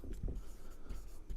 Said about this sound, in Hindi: यहाँ पे लिख देते हैं ऑन